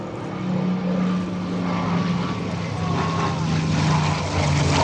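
Several WWII-era propeller warplanes of the Class of '45 fly past at the EAA AirVenture 2025 airshow, a loud, steady drone of piston engines and props filling the whole stretch, with an announcer's voice faintly mixed in.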